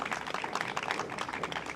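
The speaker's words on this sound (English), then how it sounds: "Let's give another round of applause for Laura Thomas, our Director of Office of Sustainability." Audience applause at an outdoor-style civic press announcement: steady, moderately quiet clapping from a modest crowd, even and unbroken throughout, with no voices over it.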